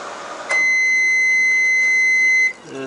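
A faint hum, then one loud, steady electronic beep lasting about two seconds from a 1980s portable 400-watt microwave oven, followed by quieter background noise.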